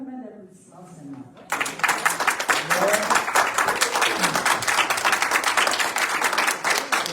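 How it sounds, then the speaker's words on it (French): A church congregation breaks into loud, sustained applause after a prayer at a Sunday sermon, the clapping steady and dense for several seconds after a brief stretch of quiet speech. "Alors, peux-tu lui donner une bonne main d'applaudissement, Seigneur?"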